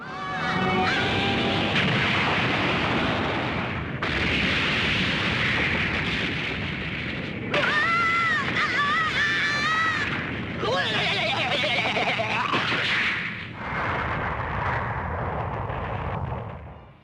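A massive anime energy blast explodes as Vegeta's power surge tears apart the surrounding area, heavy booming and roaring bursts in several loud waves, mixed with dramatic effects and voices.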